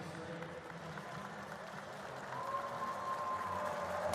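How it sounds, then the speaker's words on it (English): Light, distant applause from fans at a speed skating World Cup race in Salt Lake City as a skater finishes, faint and scattered beneath the arena's ambient rumble, swelling slightly toward the end. "Some applause from the fans"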